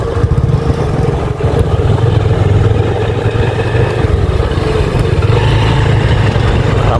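A motorcycle engine runs loud and close with a steady low droning hum that holds nearly constant on a hilly back road toward Bichanakandi near the Indian border.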